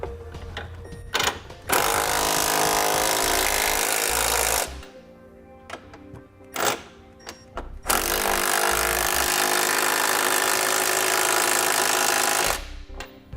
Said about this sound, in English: For the 1/2" bolts here on the driver's side, I'm going to be using a 3/4" socket to tighten them up.